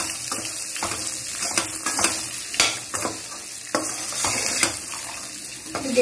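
Ingredients for tamarind pulihora fry in a pan, a steady sizzle broken by repeated sharp scrapes and taps of a spatula at an uneven rhythm.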